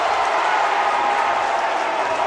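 A home crowd roars and cheers after a basket at a high school basketball game between Manchester Memorial and Trinity, a steady wash of crowd noise with a commentator talking over it.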